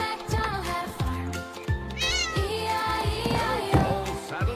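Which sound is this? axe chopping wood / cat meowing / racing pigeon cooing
cat meowing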